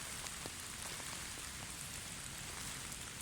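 Rain falls steadily on a garden, a soft continuous patter with scattered individual drops ticking on surfaces, faint and even throughout with no voices.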